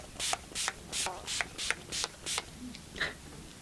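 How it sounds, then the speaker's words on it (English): Makeup setting spray misted from a pump bottle in a series of about eight short, crisp hissing bursts at a quick, even rhythm, close up, then a brief pause before one last spritz. "So now there's only some setting spray left and we're done."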